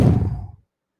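A short, buzzy, low raspberry blown by a voice to imitate a fart, lasting about half a second and then cutting to silence.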